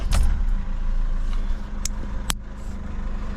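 A Mercedes W209 CLK 220 CDI diesel starts after a turbo actuator replacement, with a brief crank burst followed by a low, steady idle rumble. A couple of sharp clicks sound close by.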